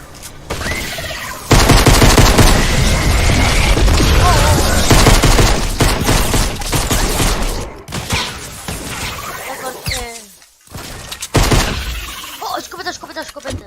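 Rapid bursts of gunfire and shotgun blasts fill a Fortnite match, loud and dense for long stretches with short pauses, and a few sharp shots near the end. Voices talk briefly between the shots.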